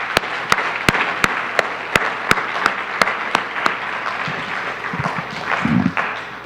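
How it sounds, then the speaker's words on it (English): Audience at an annual day event applauds a student music performance, steady crowd clapping with sharp individual claps standing out near the front, continuous for several seconds before thinning and mixing with low murmuring voices. "Give them a big round of applause there"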